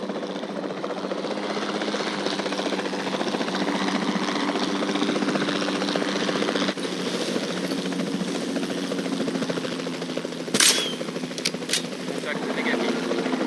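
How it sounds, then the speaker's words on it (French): Capture helicopter in the video game Jurassic World Evolution 2, a steady droning rotor and engine hum throughout, with a couple of brief sharp bursts near the end. "l'endormir depuis les airs avec un hélico de capture"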